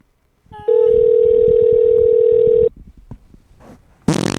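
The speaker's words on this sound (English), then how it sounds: "I'm calling McDonald's in Fayetteville." Telephone dial tone holding one steady electronic pitch for about two seconds, loud and close, then a soft pause with faint clicks and a harsh burst at the end, on a call placed to a McDonald's in Fayetteville.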